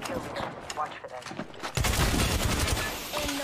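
Rapid bursts of gunfire erupt in the Apex Legends video game, sporadic shots at first then a dense, loud fusillade, with a player's voice talking over the action.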